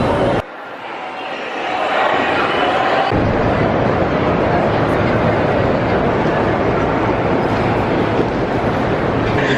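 Train and station noise fill a busy Manhattan rail station, a steady loud rumble with crowd murmur and voices mixed in, building up over the first couple of seconds and then holding constant.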